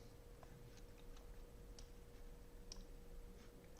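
Sparse computer mouse clicks while working in 3ds Max, a few quiet, sharp single clicks spaced irregularly over a faint steady hum, with no talking.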